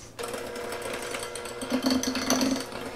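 An electric mixer starts up and creams white shortening with sugar, a close, steady motor whir that begins abruptly and grows slightly rougher as the beaters work.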